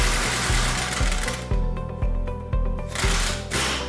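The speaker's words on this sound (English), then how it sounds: "Tighten the bolt." Fast, rhythmic mechanical rattling of a power tool or ratchet tightening the top bolt on a BMW strut held in a spring compressor, loud and close in repeated half-second bursts, no speech.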